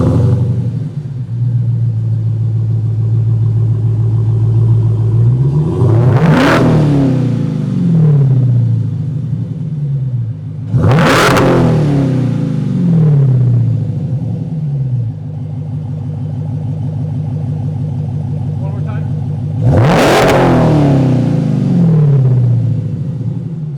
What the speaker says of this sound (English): this particular lovely sound that Dodge has provided for us, this motor that makes all that horsepower